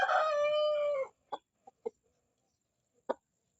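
A trembling pet chicken gives one long, loud, harmonic call, then a few short, sharp clucks spaced apart in a quiet setting.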